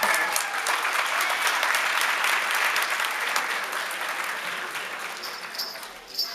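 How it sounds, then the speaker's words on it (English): Sustained applause from an audience at a Martin Luther King Jr. Day program in Southern Pines, North Carolina, after an ensemble's music, holding strong and then gradually tapering off. "Y'all give them a round of applause."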